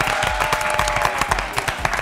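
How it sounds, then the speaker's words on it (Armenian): A studio audience applauds on a comedy show, dense rapid clapping sustained for the whole stretch, close and lively, with a faint trace of voices beneath. "ձեր ջերմ ծափարությունների ներքո ներկայացնեմ նրանց"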